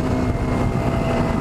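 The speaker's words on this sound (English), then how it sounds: "Man, that engine's smooth." An engine fitted with a Bosch FC2 setup and running on Motul 300V idles smoothly, giving a steady, even hum close by with no other sound over it.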